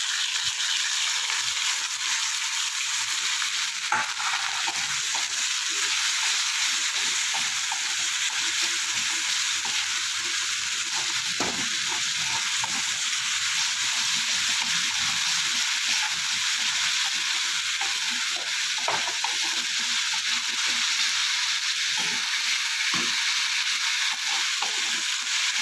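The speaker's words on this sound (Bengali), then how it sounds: "এবার দেবো আদা রসুনের পেস্ট।" Ginger garlic paste frying with onions in a pan for Dhaba-style bhindi masala gives a steady, even sizzle throughout, with occasional soft scrapes and clicks of stirring.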